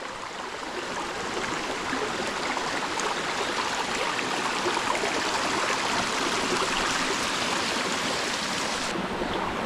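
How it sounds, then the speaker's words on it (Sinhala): A mountain stream near Alugal Lena cave in the Knuckles Mountains rushes steadily and loudly, a dense, unbroken wash of flowing water that holds even throughout with no voices. "මේ උඩහේ ඉඳන් එන දොරපාරේ තමයි අපි වතුර ගන්නෙ"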